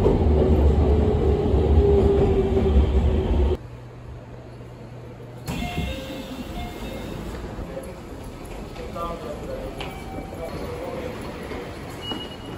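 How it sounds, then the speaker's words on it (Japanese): A train arriving at Hamamatsu Station, with loud rumbling and rhythmic clatter that cuts out abruptly, followed by quieter cabin ambience with faint station sounds. "列車は間もなく静岡県最大の人口を抱える浜松市の玄関口浜松駅に到着を"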